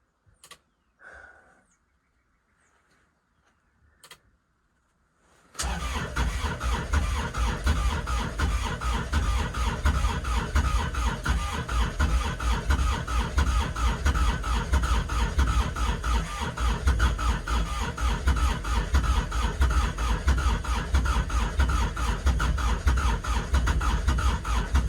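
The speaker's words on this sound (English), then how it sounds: "That was a lot more cranking than I like to do though." A Kubota RTV900 cranks on a failed cold start at -8F, with a few faint clicks first and then a long, loud, rapid, continuous starter churn that never catches.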